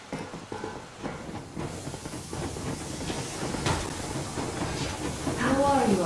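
Steam train in the video game Metro Exodus rolls along with a continuous hissing rumble and rattling clatter, growing louder toward the end as screeching squeals rise over it.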